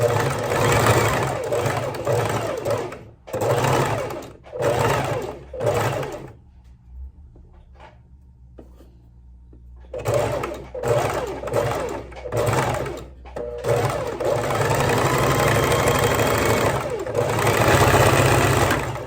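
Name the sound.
sewing machine stitching fabric with backstitch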